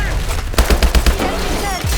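Rapid gunfire in the Call of Duty Advanced Warfare campaign: a close, loud burst of automatic shots with heavy low booms, set among other game battle noise.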